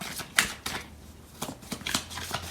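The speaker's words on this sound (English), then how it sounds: "So I'm going to pull out some cards from the other deck." Tarot cards pulled from a deck, giving a few soft, close shuffling and snapping card sounds in short bursts with pauses between them.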